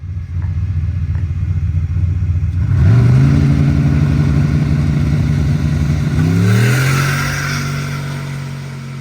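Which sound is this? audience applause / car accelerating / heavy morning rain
car accelerating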